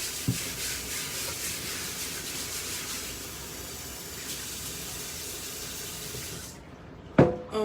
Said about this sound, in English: Let me wash my cutting board.